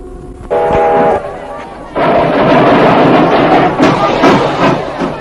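A train passing near a station, a loud rumbling roar with a horn-like tonal blast early on, heard up close, with voices talking over it.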